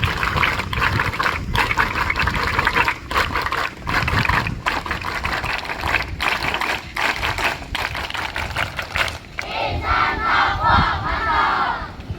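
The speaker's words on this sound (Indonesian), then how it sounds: "Tepuk pramuka 3 kali." Scout troop crowd performs the tepuk pramuka clap at a madrasah leadership camp, loud sharp rhythmic claps in three sets with shouted chanting, ending in a cheer.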